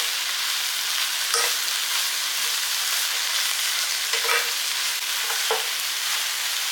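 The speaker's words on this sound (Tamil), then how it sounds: "முடக்கத்தன் வதங்கிடுச்சு" Mudakathan leaves sautéing in a pan, a steady broadband sizzle with a few soft spatula scrapes, close up and with no voices.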